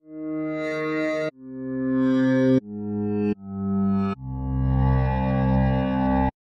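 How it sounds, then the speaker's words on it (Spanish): Five swelling synthesized tones from a granular synthesizer with grains played backward, each fading in and cutting off abruptly, forming a rich reversed texture. "Con este tipo de síntesis granular podemos hacer algunos sonidos texturales muy interesantes."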